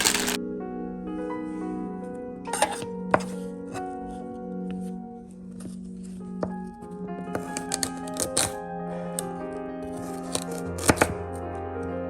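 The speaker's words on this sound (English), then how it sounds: "Next we're gonna add some carrots. Do I want to cut these up?" Carrots being chopped for stew on a cutting board, irregular sharp knife knocks scattered throughout, sometimes in quick clusters, close and clear over a steady background hum, with no talking.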